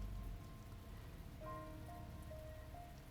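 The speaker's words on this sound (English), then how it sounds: "It's exactly the sort of dark, ugly rain Sakaki hates so much" Rain in The Fruit of Grisaia video game falls as a soft, steady hiss of rainfall throughout, quiet and even, with faint sustained tones layered over it.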